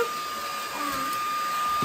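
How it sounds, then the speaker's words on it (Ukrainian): Household vacuum cleaner running steadily indoors, a constant whirring drone with a high motor whine, fairly close and unbroken throughout. "Сам іграшки позбирав і сам пилососив."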